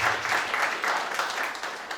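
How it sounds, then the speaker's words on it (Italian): Audience applause for an artist at a public event in Catania, a steady wash of clapping from a crowd that continues without a break. "un applauso a lui"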